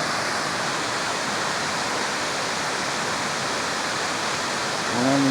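A creek waterfall pours steadily after several days of rain, a dense, even rushing roar close by that holds constant throughout, with a faint low hum creeping in near the end.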